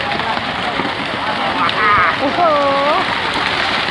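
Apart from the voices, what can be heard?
rain falling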